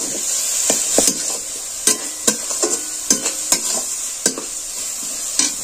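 A carrot filling sizzles in a frying pan while a spoon stirs it, making repeated scraping knocks over a constant hiss of frying.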